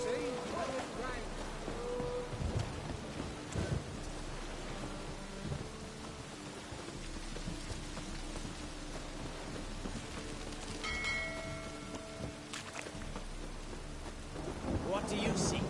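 Steady rain hisses throughout The Witcher 3 game world, with low rumbles of thunder rolling underneath and a few brief sharper sounds, all fairly quiet and continuous.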